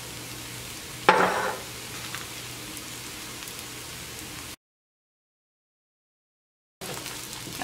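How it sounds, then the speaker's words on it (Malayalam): Sliced onions sautéing in a pan as dried red chillies go in, a soft steady sizzle with a brief louder rattle early on, then a gap of silence before the faint frying resumes. "അപ്പോൾ സവോള വഴന്നു തുടങ്ങിയിട്ടുണ്ട്. ഇനി ഇതിലേക്ക് ഉണക്കമുളക് ചേർക്കാം."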